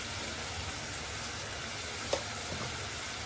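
Red chilli powder, garlic-onion spice mix, turmeric, salt, onion and tomato sizzle steadily in hot oil, with a soft scrape or two of stirring heard close by.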